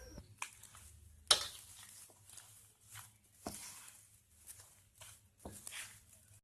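Palmyra palm fruit batter is stirred into a smooth mixture, giving quiet, soft scraping and slapping strokes at an uneven rhythm, close by.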